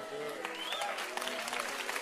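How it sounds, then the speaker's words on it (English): Audience at a church sermon claps steadily throughout, a dense patter of hands under faint voices, moderately distant and fairly quiet. "Look at your clapping."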